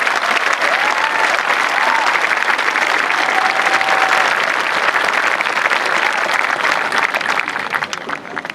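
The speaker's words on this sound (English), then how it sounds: "Please give a round of applause to our final scholarship recipients." An audience at a high school graduation claps for scholarship recipients, a loud sustained burst of applause with a few whoops and cheers, fading slightly toward the end.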